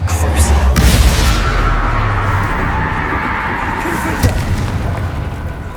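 Expulso explosion spell cast in Hogwarts Legacy, a loud low boom at the start with rumbling blast energy that lingers and decays over several seconds, a smaller thump near the end.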